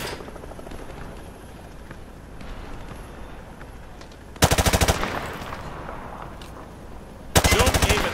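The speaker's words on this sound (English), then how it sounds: "Grab that weapon off the table and fire at the targets behind you." Gunfire at targets in Call of Duty Modern Warfare 2: two short loud bursts of rapid automatic fire over a low ambient background.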